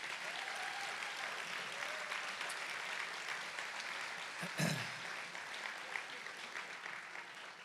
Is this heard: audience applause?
yes